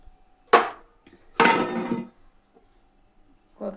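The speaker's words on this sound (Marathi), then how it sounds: "बेलना पण घासून घेतलं भांडे पण" A rolling pin and pots being scrubbed and handled at a kitchen sink, with two separate bursts of clattering, rubbing scrapes and a brief knock at the end, close and without talk.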